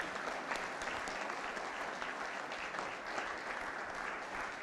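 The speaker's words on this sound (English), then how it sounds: "So let us give us a good round of applause." An audience at a live-streamed event keeps up steady applause, a dense and even wash of clapping from many hands heard at a distance for the whole stretch.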